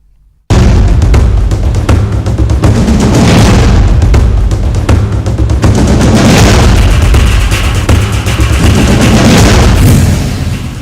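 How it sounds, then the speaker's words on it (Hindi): Artillery and gunfire in shelling along the border in the Mankot and Krishna Ghati sectors: dense, loud booms and rapid cracks rolling without a break for about ten seconds after a sudden start, with no voices. "फिर तोड़ा सीज फायर। मनकोट और कृष्णा घाटी में गोलाबारी।"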